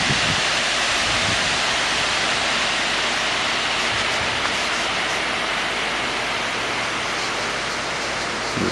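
Water rushes over a dam on a trail, a dense, steady roar of broadband noise that fills the whole stretch without pause, close and loud, with no voices.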